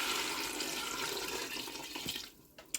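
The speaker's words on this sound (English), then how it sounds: "now I'm going to go in with the stock." Chicken stock poured into a Ninja 15-in-1 cooker for vegetable soup, a steady close liquid pour and splash that thins out near the end.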